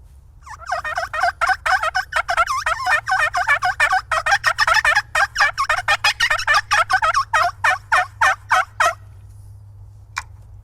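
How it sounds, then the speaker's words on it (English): Rapid wild turkey gobbling and yelping from what sounds like several birds calling together, a dense near run of repeated notes for about nine seconds that ends abruptly, followed by one faint short call. "to give the sound that there are multiple turkeys in the woods"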